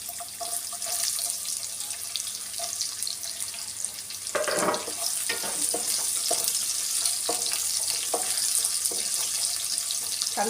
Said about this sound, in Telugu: ఈ పోపు దినుసులు మంచిగా ఇలా వేగాక ఇందులోకి ఉల్లిగడ్డలు వేసుకుందాము